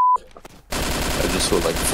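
Roblox gunfire opens after a short beep and scattered clicks, then a dense rapid burst of automatic shots hammers on loudly and steadily for over a second, close and without talk.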